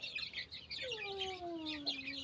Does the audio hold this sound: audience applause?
no